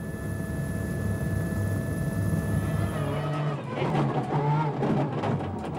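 WRC rally cars on tarmac tires climb a mountain pass with snow and ice near the top. A steady engine drone holds, then breaks into a louder, rougher, revving roar partway through.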